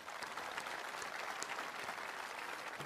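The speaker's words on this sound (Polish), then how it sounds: "brawa dla was" A large crowd of pilgrims applauding outdoors, a broad continuous wash of many hands clapping at a distance, steady and unbroken with no voices standing out.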